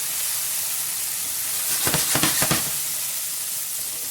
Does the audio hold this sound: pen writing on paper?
no